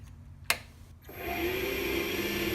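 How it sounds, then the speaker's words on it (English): A vacuum cleaner is switched on in a woodworking setup where a bespoke pen is being sanded. A sharp click comes first, then the motor spins up and settles into a steady whining hum. "Vacuum on"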